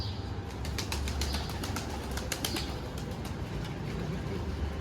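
A stray pigeon settles in a garden, giving a flurry of soft wing flaps and faint cooing over a low, steady outdoor hum, quiet and somewhat distant, with no voices.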